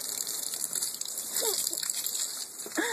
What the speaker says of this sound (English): Put the water in the pool, buddy.